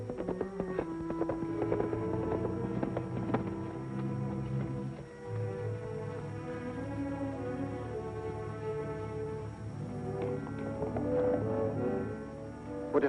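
Horse hooves clip-clopping on a 1950s TV Western soundtrack, a steady rhythmic clatter mixed with orchestral music and low rumbling throughout.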